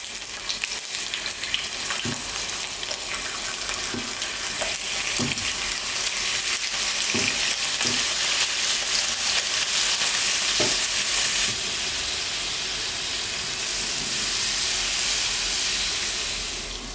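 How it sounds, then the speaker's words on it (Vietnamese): Steady crackling sizzle of bacon frying in a pan, a dense hiss running throughout with occasional louder pops and spatters. "Mọi người chiên thịt vừa phải thôi nha."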